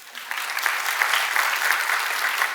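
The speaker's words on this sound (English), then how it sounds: "One more round of applause." A full round of audience applause in a hall at an institute's 150th foundation day celebration: steady, dense clapping from a crowd, sustained and unbroken throughout.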